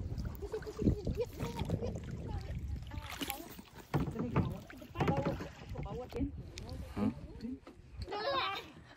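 Kayak paddling on the Bakun Dam reservoir lake in a light breeze, with soft rhythmic paddle strokes and water splashes close by, heard under steady conversational talk throughout.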